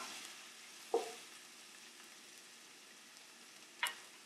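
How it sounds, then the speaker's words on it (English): Garlic sizzles softly in a hot pan, a faint steady hiss broken by two brief clicks of a utensil, for vegetarian stuffed grape leaves with arborio rice. "And then we add in a little bit of garlic."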